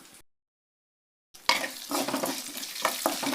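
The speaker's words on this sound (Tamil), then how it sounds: "இப்போ இதில் பச்சை மிளகாய் இஞ்சி சேர்த்து வதக்கிக்கலாம்" Green chili and ginger sautéing in a hot pan, a burst of sizzle starting after a brief silence, with spoon scrapes and stirring clatter up close and no voices.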